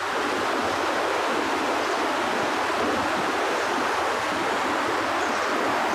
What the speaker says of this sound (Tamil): ஆறில் தண்ணி போகுது, சவுண்டு நல்லா கேட்கும்